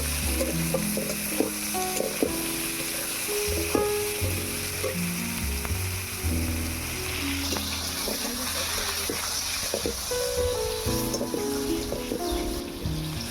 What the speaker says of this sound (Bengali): এবারে ভালো করে পটলটা ভেজে নেব।